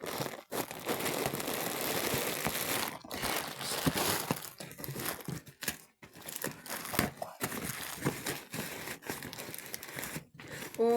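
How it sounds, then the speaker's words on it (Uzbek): Plastic packaging from an order crinkles and crackles up close as a parcel is pulled open, with continuous rustling, tearing bursts and brief pauses between handling. "Keyingi upakovkamizni ochamiz."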